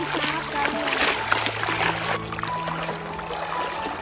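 Someone wades on foot across a shallow river at low tide near Kelshi, Dapoli. Continuous sloshing and splashing water stays close and fairly loud throughout, with no talk.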